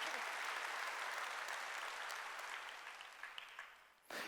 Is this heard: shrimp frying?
no